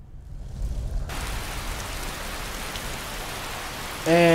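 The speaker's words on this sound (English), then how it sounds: "And of course it's raining." Steady rain hissing down in a heavily modded Skyrim, starting abruptly after a quieter opening and continuing as an even, fairly soft wash to the end.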